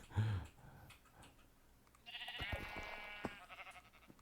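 A white sheep in Minecraft bleats in a short, moderately loud burst of wavering cries, preceded by a brief thump, with faint clicks around it.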